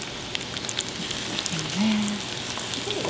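Corned beef hash sizzles and crackles in a hot frying pan, a steady, close frying hiss with a brief tonal scrape partway through.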